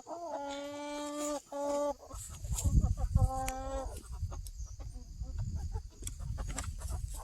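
Nine-week-old Cornish Cross meat chickens on pasture cluck and squawk close by in repeated, rising calls, with rustling and a person's voice mixed in.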